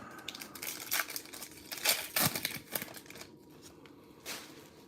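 Foil wrappers of 2025 Topps Stadium Club UFC hobby box card packs are torn and crinkled close up, a series of sharp rips and rustles in irregular bursts, no talking.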